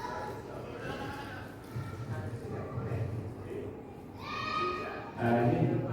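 A goat tied up for slaughter gives a few wavering bleats toward the end, under and between people talking close by amid some background bustle.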